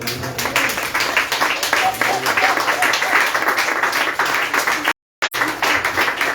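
Congregation clapping in church during a sermon, a dense run of rhythmic hand claps from many people with voices mixed in, cut by a brief silent gap near the end.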